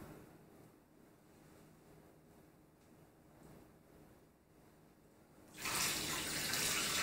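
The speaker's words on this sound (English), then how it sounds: "Now we're ready for some water. You'll add 620 grams of water." Water pours into a bowl of sourdough starter for bread dough, a soft steady trickle at first that turns into a loud, broad rush near the end.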